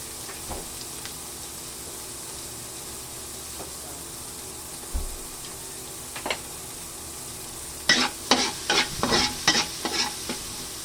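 Onions frying in a pan give a quiet, faint sizzle, then a quick run of close, rhythmic stirring scrapes comes toward the end.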